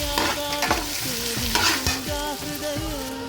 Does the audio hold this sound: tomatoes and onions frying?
yes